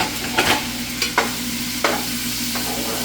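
Shrimp stir fry sizzling steadily in a pan while being stirred, with a few sharp scraping strokes of the utensil spaced across the steady frying hiss, close and fairly loud.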